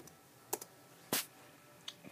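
Sparse keystrokes land on a computer keyboard in a quiet room: a few soft clicks, then one firmer press and two more light taps.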